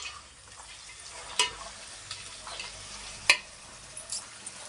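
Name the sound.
frying capsicum and field beans in a pan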